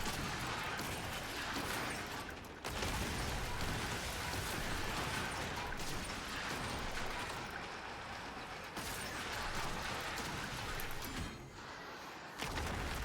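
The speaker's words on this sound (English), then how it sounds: "we're just going to lay into it with long guns constantly" Sustained cannon fire from long guns pounding a boss in the naval video game Skull and Bones, a dense, continuous roar of booming shots and crashing impacts that keeps up almost without pause, with only brief dips.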